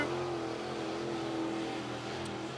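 Mid-East modified race cars roar around Cherokee Speedway during qualifying, giving a steady, fairly distant engine drone with a sustained pitch that shifts slightly as a car runs its lap.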